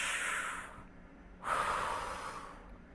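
Two slow breaths: a steady airy exhale fades out, and after a brief pause a fuller breath swells in and tapers off, close and alone with no talk.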